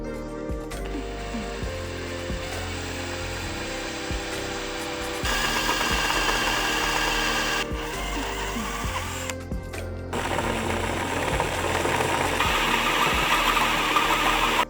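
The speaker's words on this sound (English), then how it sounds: "we're gonna grab a small drill bit, about an 1/8 inch, and then drill a pilot hole" A steady motorized whine runs throughout, getting louder and harsher partway through, as a power drill with an eighth-inch bit bores a pilot hole for a RAM TRX roof rack, close and continuous.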